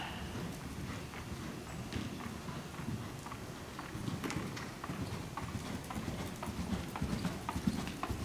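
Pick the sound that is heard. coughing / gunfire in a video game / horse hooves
horse hooves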